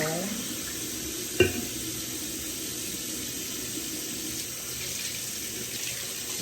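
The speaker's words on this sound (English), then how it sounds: "Right now I'm just washing my cup." A cup washed under a running kitchen tap, with a steady close stream of water and one sharp clink of the cup partway through, no talk.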